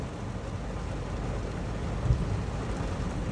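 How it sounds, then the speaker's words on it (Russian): Low thunder rumbling in a thunderstorm during a metal-detecting dig, with a continuous wash of rain and a slightly stronger low roll around the two-second mark, steady and fairly distant. "Но пока гром гремит."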